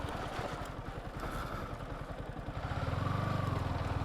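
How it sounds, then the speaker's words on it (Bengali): A motorcycle engine runs on a quiet rural road lined with silk-cotton trees, a steady mid-pitched putter that grows slightly louder and rougher toward the end as another bike draws near. "আরেকটা বাইক আসতেছে"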